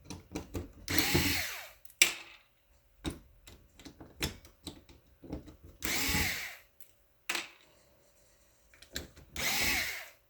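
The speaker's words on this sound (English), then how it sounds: "We're going to remove those 4 screws, again using a #1 Phillips screwdriver." An electric screwdriver removes the four small screws holding a circuit board inside an OmniSense Gateway enclosure. Its whirring bursts come in short runs, broken up by faint clicks and taps of handling, with no talking.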